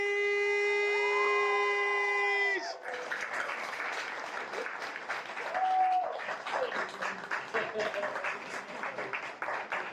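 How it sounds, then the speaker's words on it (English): A large crowd claps and cheers continuously after a sustained tone fades, the applause steady and dense, with a voice and whistles rising over it. "Let's keep the applause rolling"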